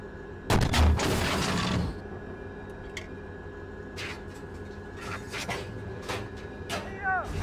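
A Challenger 2 tank cannon fires a HEAT round in the Steel Beasts simulator, giving one loud, heavy blast that rumbles for about a second before fading, followed by quieter mechanical clicks and background hum.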